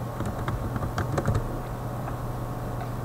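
Quiet, close typing on a computer keyboard while filling in spreadsheet headers, with a short flurry of key clicks at the start and then soft, sparse taps over a low hum.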